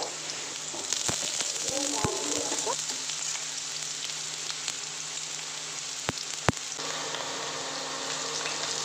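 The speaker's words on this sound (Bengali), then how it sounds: "আলুগুলো এখন ছেড়ে দিচ্ছে কড়াতে কড়ার তেলের মধ্যে দিয়ে আমি সর্ষের তেলে করছি" Potatoes fry in mustard oil in a wok, giving a steady close hiss and sizzle throughout, broken by a few sharp metallic clinks, with a voice speaking briefly in the background.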